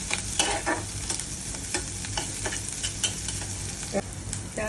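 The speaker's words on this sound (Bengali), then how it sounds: "পেঁয়াজটা ভাজা ভাজা করবো।" Onion with green chillies and garlic fries in a pan for okra chorchori, a continuous sizzle broken by repeated spatula scrapes and stirs, near and clear, no talking.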